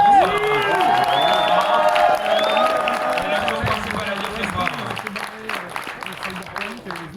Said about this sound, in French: on peut encore applaudir Tinam pour l'énergie qu'il dépense.